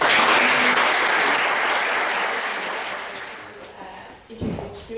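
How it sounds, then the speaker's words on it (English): Loud applause from a breakfast event audience fills the room, swelling at first and then gradually fading away as a voice begins to come in near the end. "Next round of applause."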